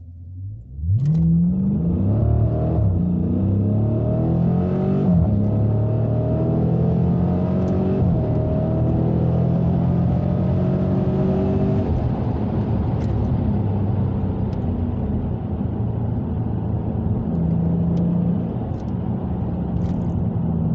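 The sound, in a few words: muscle car accelerating hard in a launch pull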